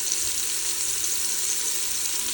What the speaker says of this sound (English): After these onions have been sauteing for a couple of minutes